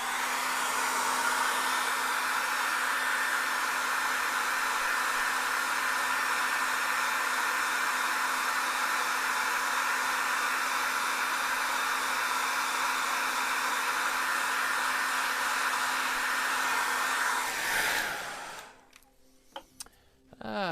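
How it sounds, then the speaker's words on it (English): A hair dryer blows steadily on wet acrylic paint, a loud, constant whooshing hum that runs without a break for about eighteen seconds before cutting off abruptly, leaving only faint taps and rustles. "I'm just going to blow dry that because it's now very wet in that area"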